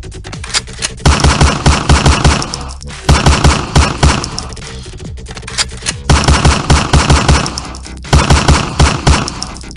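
Loud, rapid bursts of automatic gunfire come in repeated volleys, with brief pauses between the rattling strings of shots.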